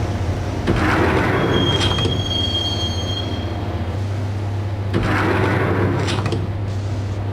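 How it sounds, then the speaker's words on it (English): A train ride in the video game Max Payne: a rumbling carriage with squealing wheels and a steady low hum, loud and close, with surges of rattle and a high whine. "the train doors had already shut behind me, and I was in for the ride"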